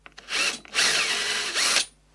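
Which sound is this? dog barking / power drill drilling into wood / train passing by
power drill drilling into wood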